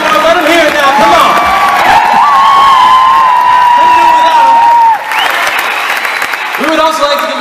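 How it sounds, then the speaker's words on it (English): Loud, sustained applause and cheering from a concert audience at a Mother's Day show at the Verizon Center in Mankato, Minnesota. Long whoops and whistles ride over the clapping, which dips briefly near the end before surging back. "Can you guys give our crew a big round of applause, please?"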